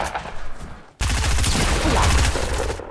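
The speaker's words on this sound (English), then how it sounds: "So the SMG's really good" A submachine gun fires a long, rapid, loud burst in Fortnite Battle Royale after a short lull, steady automatic shots dense and close throughout.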